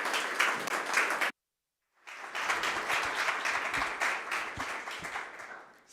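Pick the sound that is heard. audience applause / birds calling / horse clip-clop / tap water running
audience applause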